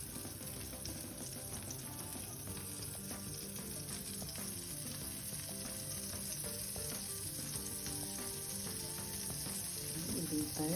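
Pancake batter sizzles in a buttered pan, a steady close frying hiss with faint crackle that holds even and continuous, growing slightly louder toward the end.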